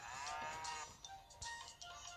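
A cartoon cow moos in the Meena mobile game, a short drawn-out call followed by a few brief bursts of game sound effects, all fairly quiet and with no talking.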